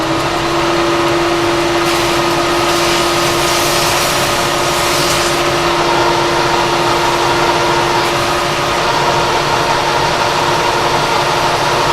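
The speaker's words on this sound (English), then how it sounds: "I want to run the vacuum to keep the chips out" A steady, loud vacuum cleaner hum drones on without a break in a workshop, running nearby at constant pitch to collect chips.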